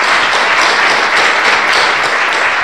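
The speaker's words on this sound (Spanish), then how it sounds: "Un fuerte aplauso que estamos aquí." Loud, sustained audience applause at a neighborhood center event, dense clapping filling the whole stretch with no pauses.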